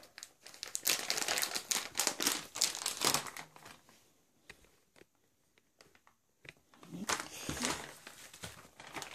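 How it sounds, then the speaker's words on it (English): A plastic parts bag from a Sky Hero Little 6 drone kit crinkles and rustles as it is opened and handled up close, in dense bursts with a brief lull midway. "we'll open the parts bag."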